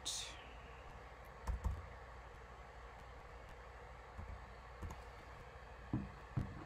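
Someone types a verification code on a computer keyboard while setting up a PayPal account. The keystrokes are faint and scattered, with a few louder clicks over a steady low room hum.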